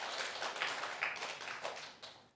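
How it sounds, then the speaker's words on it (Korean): A small church congregation at a Friday worship service claps briefly, a soft, loose patter of hands that tapers off after about two seconds, with no voices. "박수 한번 쳐주세요."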